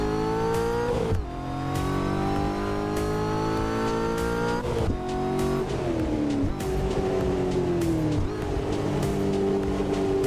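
Car engine in the Assetto Corsa racing game, loud and continuous, with repeated rev rises and sharp blips as gears are downshifted and the revs are matched.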